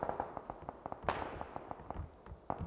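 Flare gun fire in the video game PUBG (PlayerUnknown's Battlegrounds), a string of quick, fairly faint popping shots in an uneven rhythm, one sharper burst standing out among them.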